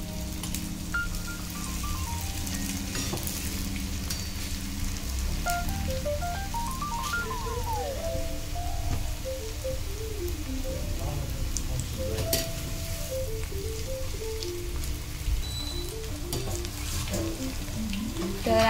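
Baby corn frying in hot oil for a chili crispy dish, a continuous loud bubbling sizzle throughout, with a faint melodic tone running underneath.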